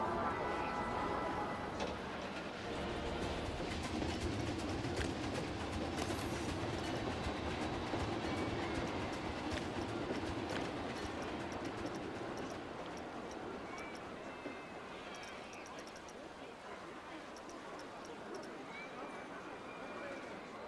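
A mine train roller coaster rattles along its track in the video game Planet Coaster 2, with a continuous clattering rumble and rhythmic clacks amid a busy theme park ambience. The sound is fairly faint and steady.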